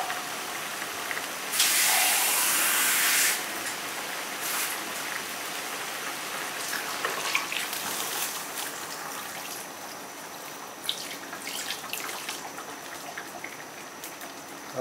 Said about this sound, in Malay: Dan nanti kita letak air.